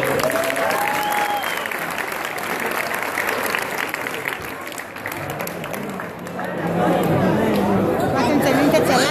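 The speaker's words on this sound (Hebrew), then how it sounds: "מגיע לו כפיים." Wedding crowd breaks into sustained loud applause and clapping for the groom, mixed with cheering and chatter from guests throughout.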